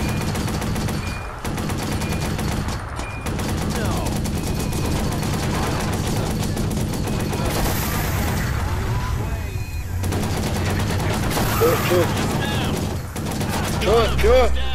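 Gunfire in the video game Watch Dogs, with rapid bursts of automatic fire and repeated shots sounding almost continuously, mixed with game effects and people talking over it.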